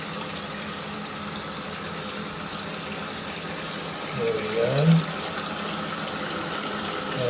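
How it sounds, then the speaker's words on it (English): A toilet cistern refills after a flush, giving a steady close rush of running water throughout, with a short spoken remark near the middle. "But it's now filling up,"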